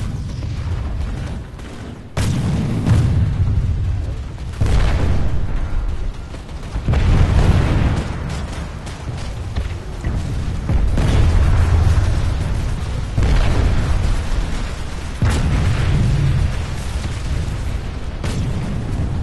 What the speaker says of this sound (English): Generator destroyed.